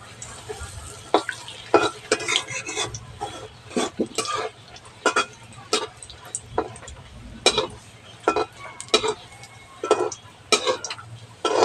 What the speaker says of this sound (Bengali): বেশ কড়া করে ভাজতে হবে।